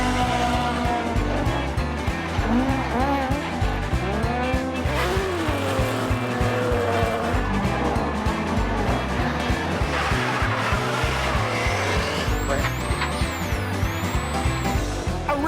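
A rally car on a tarmac sprint course at the Otago Classic Rally drives close by with a loud, steady engine drone through gear changes, and tyre squeal rises toward the end.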